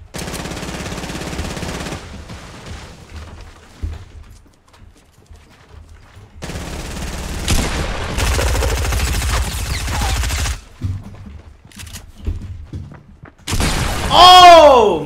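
Rapid automatic gunfire and sharp sniper shots in Fortnite come in loud, close bursts separated by quieter gaps, with game effects and a player speaking Spanish over the action.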